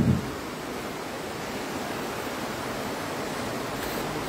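A river at Hinaguan Nature Park flows in a steady, even rush throughout, a soft broadband hiss with no pauses or voices.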